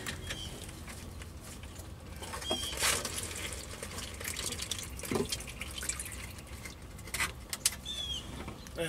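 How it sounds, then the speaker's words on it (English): Transmission fluid drips and trickles from a loosened pan on a 1982 Chevy C-30, a close, steady patter of drops with occasional louder splashes and no talk. "So as you can see, I'm loosening them. It's starting to leak already."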